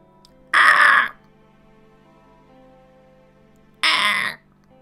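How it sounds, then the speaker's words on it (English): Programmed raven calls in Shardlight: two harsh, loud caws, each about half a second, separated by roughly three seconds of quiet hum, close and clear with no talk. "Oh, I programmed in a bird call."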